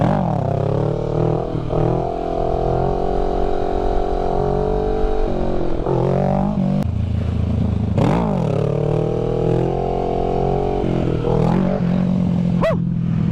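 A Kawasaki Ninja 650 with a Two Bros full-system exhaust, ECU remap and DNA air filter idles and revs loudly nearby, its harmonic engine note climbing and falling in several sharp throttle blips.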